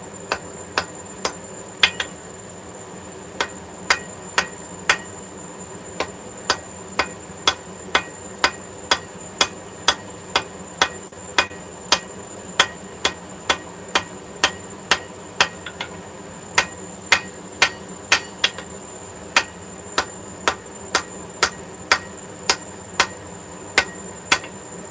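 Hammer blows on hot steel at high lemon-yellow welding heat, a steady series of sharp ringing strikes at an even rhythm, close and clear over a quiet background.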